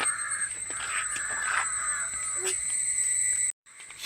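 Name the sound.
crow cawing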